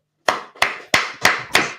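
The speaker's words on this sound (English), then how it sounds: "clap it up" Five sharp, evenly spaced hand claps ring out close and loud in slow rhythm, each one decaying briefly before the next, with no talking over them.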